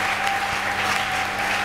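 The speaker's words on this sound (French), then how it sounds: "Est-ce qu'on peut acclamer très fort?" Loud, steady applause from a church congregation during a French-language sermon, a dense continuous clatter of many hands filling the room without a break.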